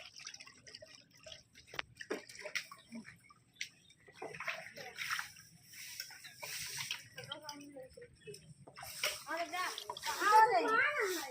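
Water is thrown and splashes in short sloshing bursts with drips. Excited talk and voices run over it and grow louder toward the end.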